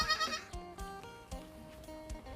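Goats on a Thai goat farm bleat in a close, busy cluster, several overlapping wavering calls repeating through the short stretch with no talk over them.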